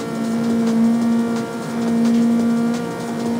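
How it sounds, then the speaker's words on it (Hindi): A car engine in the racing game CarX Street revs with a loud, steady droning hum, the pitch holding almost level with slight swells as the throttle is held, close and continuous. "काफी तेज गाड़ी है"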